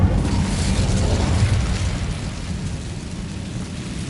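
A fire spell cast in Hogwarts Legacy bursts into a loud, dense, rumbling roar that holds steady for about two seconds before easing slightly and continuing as a sustained crackling whoosh.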